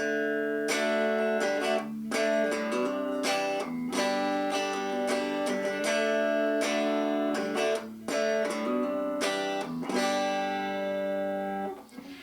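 A guitar repeats a short plucked riff over and over, bright notes ringing in a steady, looping pattern with no voices.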